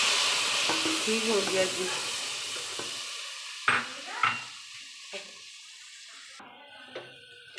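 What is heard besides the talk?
spices and water sizzling with browned onions in a pan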